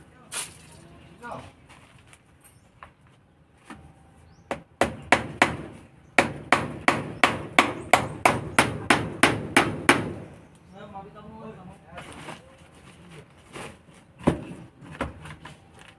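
A hammer drives a nail into a chicken nest made from an empty cement bag, a fast series of about a dozen sharp, evenly spaced blows, loud and close, with someone speaking before and after.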